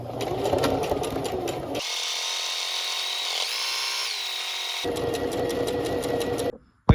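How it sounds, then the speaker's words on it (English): A sewing machine double-stitching awning fabric runs in fast, rattling bursts at the start and end. In the middle it switches to a smoother, steady whine, then cuts off abruptly near the close. "now I'm just going to run it back through to get that double stitch"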